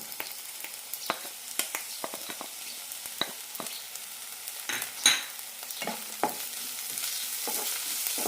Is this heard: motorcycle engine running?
no